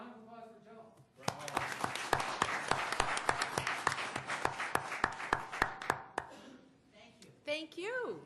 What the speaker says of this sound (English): thanks for a round of applause for Joe.